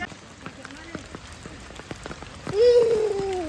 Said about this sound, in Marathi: जाम जोरात आता पाऊस आला